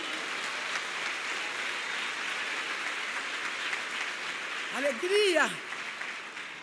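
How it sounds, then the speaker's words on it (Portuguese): A church congregation claps in a steady, fairly distant wash of applause, while a voice speaks briefly over it near the end. "Você pode aplaudir a Jesus aqui?"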